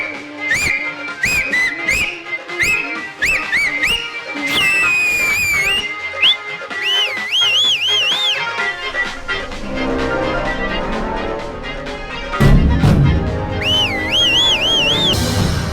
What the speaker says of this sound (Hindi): हमारी माई को देख के सीटी बजा के तू